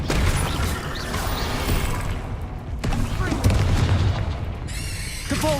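Booming spell-cast blasts and magical impacts from Hogwarts Legacy come in a dense, continuous barrage of explosive hits, with a player's voice over the game effects.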